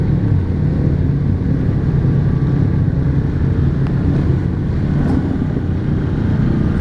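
A 2019 Yamaha Grizzly 700 ATV churns through muddy ruts with its skid plate dragging, a steady loud engine drone under heavy wind buffeting the microphone, with no pauses across the whole stretch.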